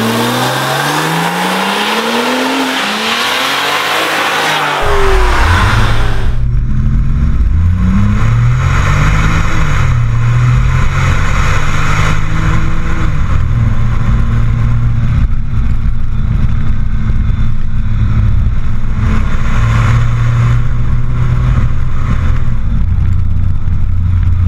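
A Porsche 911 Turbo of the 997.1 generation pulls hard under full throttle, its engine note climbing in loud, stepped surges through successive gear changes that sound close and sustained.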